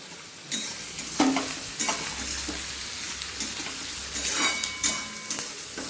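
Banana flower pakoras fry in hot oil with a constant sizzle, broken by scraping and clinking stirring strokes at irregular intervals, close and with no talk.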